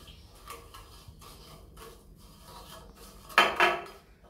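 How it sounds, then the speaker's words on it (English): A spoon mixes sugar, honey and a little coconut oil for a lip scrub, giving soft repeated scrapes and taps, then two louder clinks close by near the end. "some coconut oil, just a little bit of coconut oil, and we are going to mix the whole thing"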